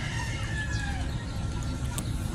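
Shamo gamefowl chickens around four months old make clucking and crowing calls over a steady low rumble of background noise, with a brief sharper call near the end.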